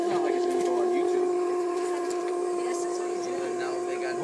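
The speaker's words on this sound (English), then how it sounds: "you'll get steam out of here in a hurry. It's a pressure valve." Steam hissing from the pressure valve of a horizontal boiler driving a steam mill engine, a loud, steady whistling hiss with a sustained tone that runs unbroken, close by.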